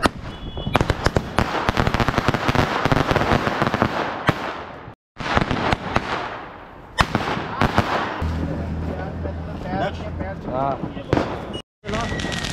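Firecrackers bursting during Diwali celebrations, a dense run of loud, close cracks and pops that continues through most of the stretch, with people talking and shouting over them.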